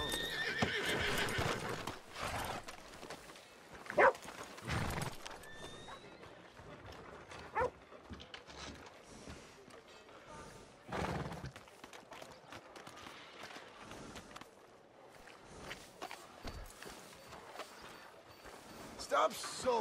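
Horse hooves clip-clopping and a horse neighing loudly in the Red Dead Redemption 2 video game, with bursts of whinnying among steady hoofbeats and a barking dog, while characters talk over it.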